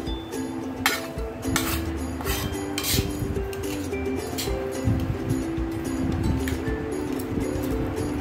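A spoon stirs cooked tur dal in a metal pot after the gas is switched off, giving repeated close clinks and scraping against the pot over a low background hum.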